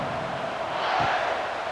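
Murmuring crowd in a college football stadium during a Texas Longhorns vs. Arkansas Razorbacks game, a steady distant roar of voices that swells briefly near the middle.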